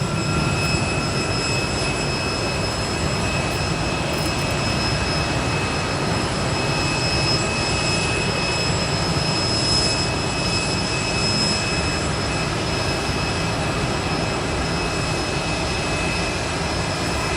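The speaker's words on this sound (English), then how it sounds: "Delta E175 beginning to taxi out over to runway 10 right today" A Delta E175 regional jet taxis out toward runway 10 Right at Boise airport, its engines giving a steady, distant whine over a broadband rumble that holds unchanged throughout.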